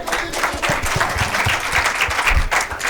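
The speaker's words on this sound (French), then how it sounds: "applaudissez pour Yoro Junior" An audience claps for Yoro Junior at a live show, a loud, fast, dense patter of hands sustained for a few seconds.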